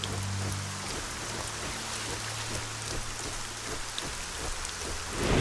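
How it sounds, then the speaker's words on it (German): Steady heavy rain with thunder-like rumbles in the Arcania – Gothic 4 role-playing game, a dense continuous wash with a low tonal drone in the first four seconds, loud and without talk. "Pass auf, es regnet natürlich, gell?"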